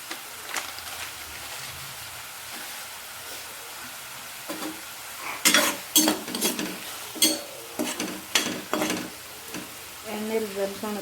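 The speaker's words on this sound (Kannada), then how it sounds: "ಈಗ ಹಾಕ್ಬಿಡ್ತಿದ್ದೆ ನಾಲ್ಕು ಗೋಡಂಬಿ ಒಂದು ನಾಲ್ಕು ದ್ರಾಕ್ಷಿ ಹಾಕ್ಕೊಂತೀನಿ" Cashews and raisins sizzling in hot ghee or oil in a pan, with a steady fry hiss and several sharp crackles and spatters in the middle, plus a few clinks of a spoon stirring; no speech over it.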